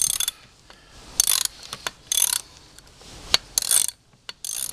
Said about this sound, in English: I'm just doing the bolts in.